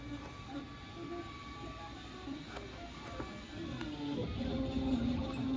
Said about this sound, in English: It's zipping back and forth, printing layer upon layer.